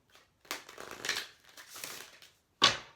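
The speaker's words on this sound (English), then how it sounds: "The only prep you have to do is to shuffle the cards." A deck of cards being shuffled, heard as two riffling bursts of papery flutter followed by a sharp snap as the cards bridge and settle at the end, fairly close and with no talking.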